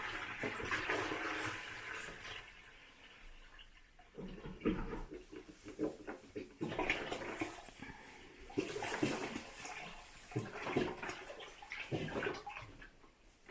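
Warm water splashes and pours steadily into a bucket on a farm, with sloshing bursts rising and falling throughout.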